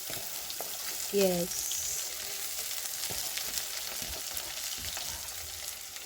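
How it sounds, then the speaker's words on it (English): Cabbage added to a pan of browned beef sizzles steadily in hot oil with occasional stirring clatter, close and continuous, while someone speaks briefly. "Then I go ahead and put my cabbage in there."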